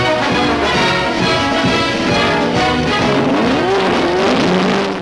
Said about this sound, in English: Aston Martin gave it a pumped up engine and off it went racing.